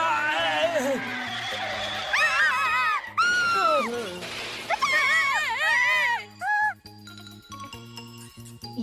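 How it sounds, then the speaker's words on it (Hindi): A cartoon character screams in a shrill, wavering voice, with several rising and falling cries in a row over background music and sound effects, and other voices nearby. "ये कौन चिल्ला रहा है?"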